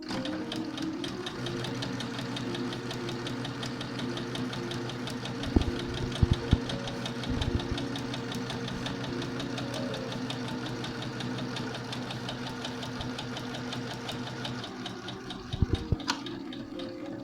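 Sewing machine stitching fabric with a backstitch, a steady, rapid mechanical whir close by with a few brief knocks as the stitching reverses.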